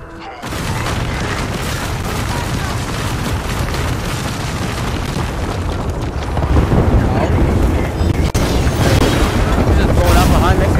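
A grenade in the Apex Legends video game detonates with a heavy, rumbling boom that rolls on as a loud, sustained roar of debris, swelling again later, with a player's voice talking underneath.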